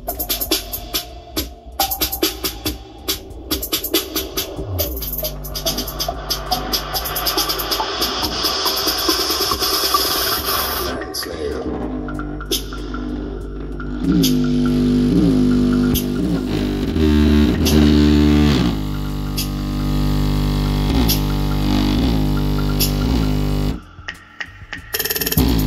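Music played through a Harman Kardon Onyx Studio 8 portable speaker after reassembly, a loud, full mix with strong bass, continuous for most of the stretch before a brief drop near the end.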